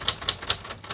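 Keys strike on a 1960s Royal Safari manual typewriter, giving four crisp, evenly spaced clacks within a second, close and loud with no voices.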